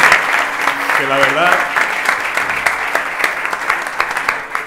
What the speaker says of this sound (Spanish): ahora pido un aplauso por favor a la organización